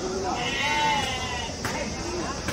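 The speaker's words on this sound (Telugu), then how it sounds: "అన్ని అంగళ్ళు పెద్ద పొట్టేలు" Rams bleat at a crowded livestock market ahead of Bakrid, several long wavering calls overlapping close by against a dense background of crowd chatter.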